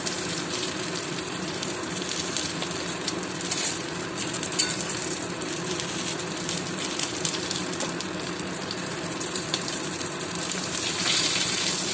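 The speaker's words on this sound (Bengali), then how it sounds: "চিংড়ি মাছ দুটো ভাজা হয়ে গেছে" Prawns fry in a pan of hot oil, giving a steady, close, crackling sizzle that carries on evenly throughout.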